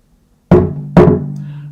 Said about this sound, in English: I just banged it on the tabletop